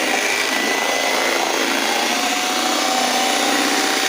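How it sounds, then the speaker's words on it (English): An electric whisking machine beats skin repair lotion with a single whisk, giving a steady, loud motor whir with a busy mechanical texture that holds unbroken for about four seconds before cutting off abruptly. "This is our whisking machine."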